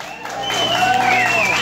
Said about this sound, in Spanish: ¡Aplausos para la señorita!